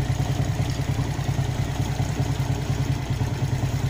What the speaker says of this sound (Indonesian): Nah, ini mesinnya sedikit agak kasar ya.